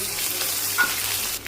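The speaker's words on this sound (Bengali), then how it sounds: "আদা রসুন বাটাটা আমি একটু ভেজে নেব।" Ginger-garlic paste fries in hot oil with onions already in the pan, giving a close, continuous crackling sizzle with a faint stir and scrape near the end.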